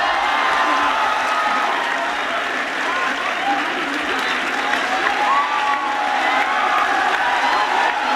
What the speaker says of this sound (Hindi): जोरदार तालियां साथियों एक बार फिर से